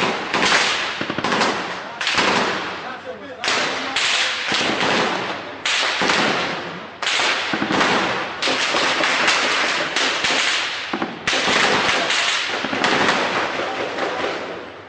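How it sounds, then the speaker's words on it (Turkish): Heavy gunfire in intense fighting in Aleppo, with rapid bursts of sharp cracks and thuds following one another in irregular volleys that fill the whole stretch. "500 metre içerisinde çok yoğun bir çatışma var burada."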